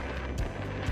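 Wind gusts at a sandy camping spot in Kinkuna, roaring steadily and buffeting the microphone as a dense, rumbling rush for a second.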